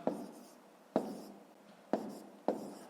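Pen or pencil strokes writing numbers on paper for a column subtraction exercise, four short scratchy bursts about a second apart, close and fairly quiet, with no talking.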